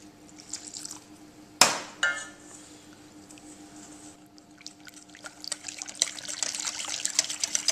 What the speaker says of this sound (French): nous allons rajouter 15 centilitres d'armagnac